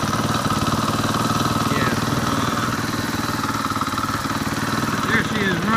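A 2015 KTM 500 EXC motorcycle with its stock exhaust runs at a steady idle close by, a loud continuous thumping rumble throughout, with a voice speaking briefly over it.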